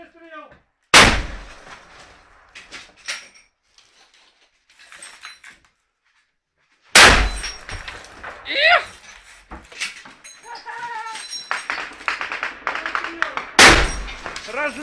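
Gunshots ring out during fighting at the international airport in Donetsk, November 2014: three loud, sharp blasts spaced several seconds apart, with shouting voices and rustling between them.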